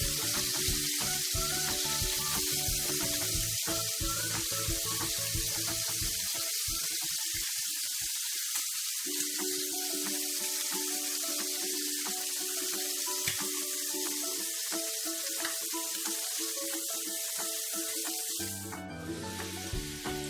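Squid sear in a hot frying pan, a steady loud sizzle and hiss running throughout with faint clinks and stirring, tapering slightly near the end.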